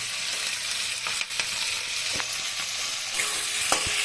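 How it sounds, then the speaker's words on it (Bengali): Cauliflower florets sizzle steadily in a hot pan for chilli cauliflower, with a few louder scraping knocks as they are stirred, close and continuous with no talking. "দিয়ে নাড়াচাড়া করছি। নাড়াচাড়া করে একটু ভাজা ভাজা করব, জাস্ট হালকা করে"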